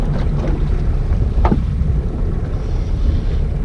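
A small fishing boat's engine runs at sea as a steady, loud low rumble, buffeted by wind noise against the microphone and mixed with water sounds.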